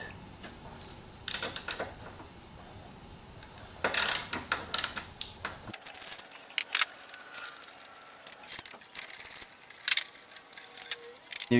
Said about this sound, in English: I'm using a ratchet and 10mm socket.